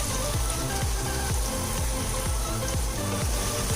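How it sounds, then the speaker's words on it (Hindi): Chicken sizzles and fries steadily in a pan for Bhatkal khichdi with green chillies, a loud, dense crackle running unbroken throughout with repeated low knocks like a spoon stirring. "इसे अच्छे से भून लें"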